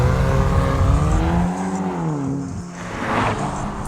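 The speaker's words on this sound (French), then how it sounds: "Ce que j'ai le plus apprécié, c'est cette nouvelle déflagration au niveau de l'échappement." An Audi engine revs with a loud, close exhaust note that swells, dips and rises again; the sharp exhaust crackle is not clearly picked out.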